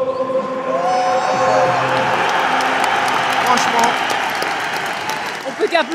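A stadium crowd at a Liverpool vs PSG football match applauds and cheers loudly, a broad sustained roar of clapping with singing tones early on, and a voice talks over it near the end.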